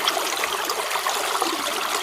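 Creek water flows and trickles steadily in a constant close babble, with no voices over it.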